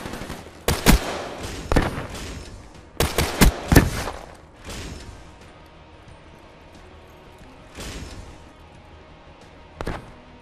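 Sharp, loud shots crack from an MX Garand rifle in Black Ops 3, spaced singles and quick pairs over several seconds, with gaps of quieter game noise and a final distant shot near the end.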